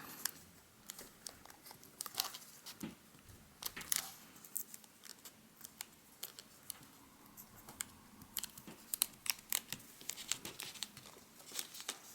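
Origami paper for a bee model is folded and creased by hand, giving soft, close, intermittent crinkles, taps and papery rustles at low volume.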